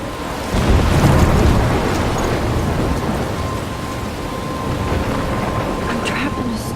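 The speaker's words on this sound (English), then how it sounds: "I'm trapped in a storm?" A storm in the Life is Strange video game: steady heavy rain with rolling thunder swelling near the start, a dense continuous roar throughout without speech.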